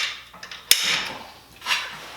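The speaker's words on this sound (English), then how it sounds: "Now I'm center punching it." A single sharp metallic strike from center punching steel on a 1950 Chevy Coupe, a short hard tap in a quiet workshop followed by faint handling noise.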